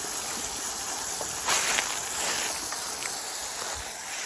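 A hose end sprayer sends Garden Tech Sevin insecticide across a lawn with a steady, close, even hiss that runs the whole time, with only faint small knocks underneath and no talking.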